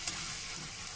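Curry leaves sizzling in ghee with ginger-garlic for ghee rice, a brief close, steady hiss of frying with no voice.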